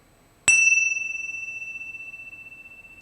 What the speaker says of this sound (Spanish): seguimos el sonido de las campanas